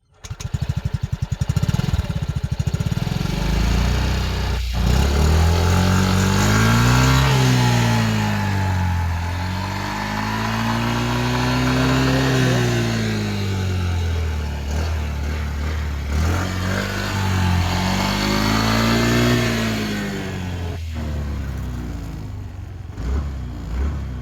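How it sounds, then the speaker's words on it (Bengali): A Yamaha ZR125 motorcycle engine revs up and down close by, its pitch climbing and falling in several repeated surges over a steady running drone, with no talking. "সাউন্ডটা শুনুন আপনারা বাইকের"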